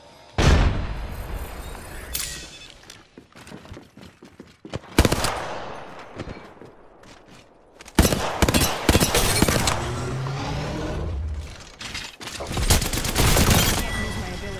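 Rapid bursts of automatic gunfire and booming shots in the battle royale shooter Apex Legends, loud and close, coming in dense volleys with short gaps, under game voice callouts.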